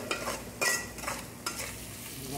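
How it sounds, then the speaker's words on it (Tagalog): Ginger goes into a hot pan for chicken masala and is stirred, giving a soft sizzle with a few sharp scraping strokes of a utensil against the pan. "Ilagay lang yan, nilagay yung luya."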